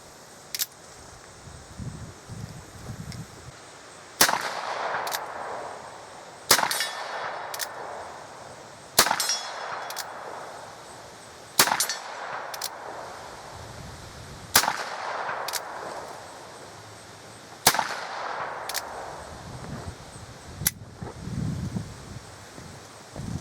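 Charles Daly 1873 Single Action Army revolver firing 200-grain .45 Colt cowboy loads outdoors: about seven sharp, loud shots spaced a couple of seconds apart, each ringing briefly over light wind and rustling between them.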